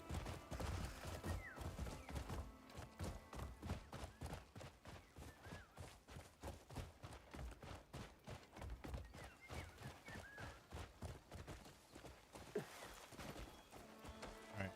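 Horse hooves clip-clop in a brisk, uneven rhythm in the video game Crimson Desert, mixed with occasional whinnies and scattered thuds, moderately close and with no talking.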